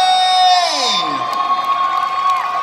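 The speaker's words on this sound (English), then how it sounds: "let's have a massive cheer for Redcoat Dylan and Redcoat Chloe!" A holiday camp crowd cheers and whoops loudly for two Redcoat entertainers, with a short swell of shouting that settles into sustained cheering. A singing or announcing voice carries over the top.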